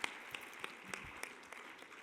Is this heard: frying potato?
no